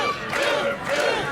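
Arena crowd at a wrestling event urging on a downed wrestler, a dense sustained roar of many voices chanting and cheering, loud and steady throughout.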